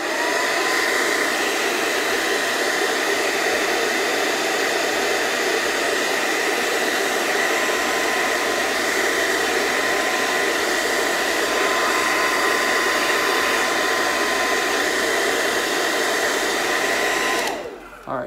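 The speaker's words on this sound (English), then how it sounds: "you're gonna blow dry it for a couple of seconds, maybe 10 seconds, just so it stays there and doesn't keep opening" A hair dryer blow-drying a beard runs continuously at close range, a loud steady whooshing roar that holds for nearly twenty seconds before cutting off abruptly at the end.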